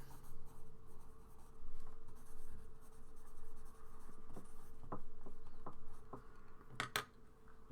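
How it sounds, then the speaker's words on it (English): A pen writes a name on a small sheet of paper, giving close, continuous scratchy strokes with a few sharper taps and flicks near the end. "I can write your name down here on my little paper"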